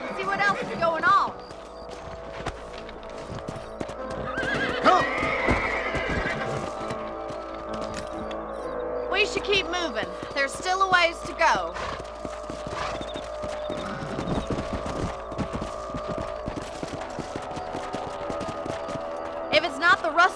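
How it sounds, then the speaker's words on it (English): Horses in the Red Dead Redemption video game clip-clop at a steady pace with repeated whinnies and snorts, hooves close and clear; someone speaks over the riding. "Let's get back on the horses and see what else is going on."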